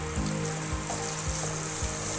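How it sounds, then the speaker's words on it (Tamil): Onions frying in oil for a tomato chutney (thakkali thokku), a steady close sizzle with soft bubbling and occasional stirring scrapes, without talk. "வெங்காயம் நல்லா வதங்கிடுச்சுன்னா கெடவே கெடாது"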